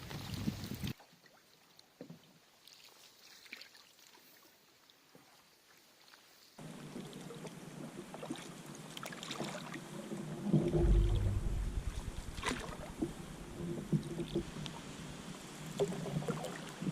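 A canoe is paddled on a creek in Algonquin Park on a wet, stormy trip, with soft intermittent water splashes and drips over a low outdoor rumble, faint and with no talk.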